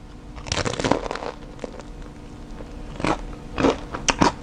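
Crunchy bites into a veggie and shrimp egg roll topped with sweet sriracha sauce, several loud close crackling crunches spaced out with quiet chewing between them.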